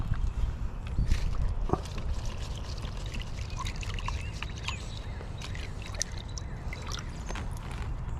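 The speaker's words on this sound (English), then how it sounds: "And now I'll rinse it off." A freshly dug purple sweet potato with roots is rinsed outdoors in a garden, with soft, uneven splashing and trickling water plus light handling knocks and faint rustles.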